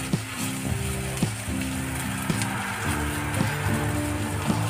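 Ginger garlic paste frying with golden onion in a pan for egg bhurji gives a steady, even sizzle, with sharp clinks of a spoon against the pan repeating through it.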